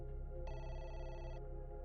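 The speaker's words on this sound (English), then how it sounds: "Just then, the phone rang again." Telephone ringing indoors, a steady electronic ring tone that rises partway through and cuts off, with a fresh ring starting at the end, faint over a low background hum.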